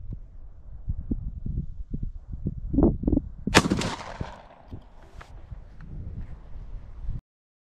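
A single shotgun blast from a Beretta A400 Xtreme Plus fitted with a Briley IC comp choke, fired outdoors at a pattern target, cracking loudly and rolling off into a fading echo amid steady outdoor background noise.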